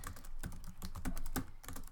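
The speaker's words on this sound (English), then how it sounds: "just type in whatever it is that you're searching for" Someone types a search query on a computer keyboard, a quiet, steady run of close key clicks and taps with brief pauses, no voices.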